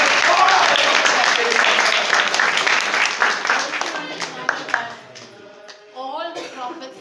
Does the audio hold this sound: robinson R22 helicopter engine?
no